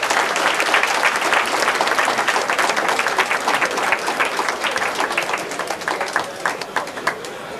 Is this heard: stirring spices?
no